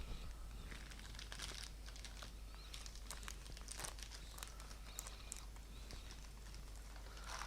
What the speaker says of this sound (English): get the little serrated edge part and tear down